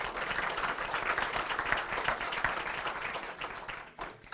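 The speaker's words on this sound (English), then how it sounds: "Let's have a round of applause." Audience at a 2019 spelling bee applauding between rounds, a steady burst of many hands clapping that lasts about four seconds, then drops away abruptly.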